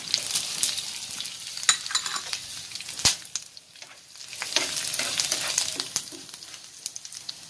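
Curry leaves, dried red chillies and green chillies frying in hot oil for a Kerala pachadi: busy crackling and spattering with sharp pops, plus occasional utensil clinks and stirring. No talk.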